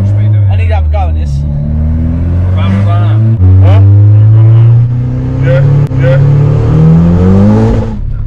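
A turbocharged 350bhp Honda EP3 engine revs loudly with rising and falling pitch sweeps through several gear changes, heard from inside alongside bursts of speech.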